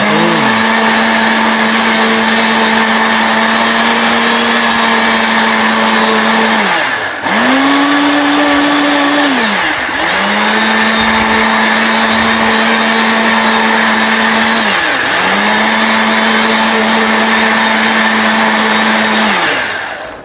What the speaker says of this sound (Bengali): এখন আমরা আমাদের শরবতটা সুন্দর করে স্মুথ করে ব্লেন্ড করে নেব